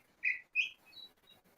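A few short bright chirps from a small bird in the background, faint and spaced irregularly in an otherwise quiet room.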